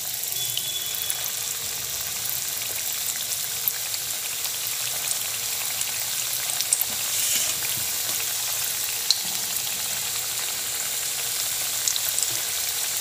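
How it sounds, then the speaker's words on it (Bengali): Balushahi sweets fry in hot oil over a lowered gas flame, giving a steady, close, even sizzle and crackle with faint popping throughout and no voices. "এগুলো ভেজে নেব"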